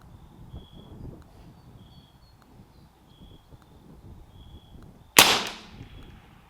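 A single sharp crack from a CZ457 AT-ONE rimfire rifle at an outdoor range, sudden and loud against quiet wind and faint bird chirps, then decaying quickly.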